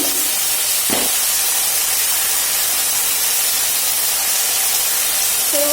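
Onion, bay leaf and spices sizzle in a pan with a loud, constant hiss, broken by a brief clatter near the start.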